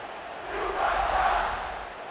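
Stadium crowd in the College Football 26 video game during a UCLA versus Northwestern matchup, a broad wash of cheering that swells in the middle and eases off, moderately loud, with no voices standing out.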